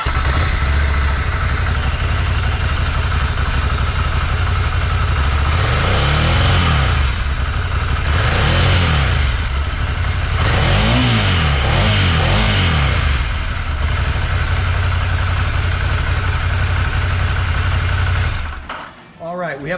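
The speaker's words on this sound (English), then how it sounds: "Let's hear what that stock exhaust sounds like." A Ducati Monster 797 Plus on its stock exhaust revs repeatedly from a steady idle, loud and close, with rising and falling sweeps of engine note, before cutting off abruptly near the end.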